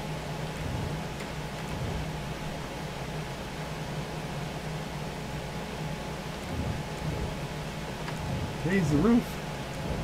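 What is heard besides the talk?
rain in video game GTA 5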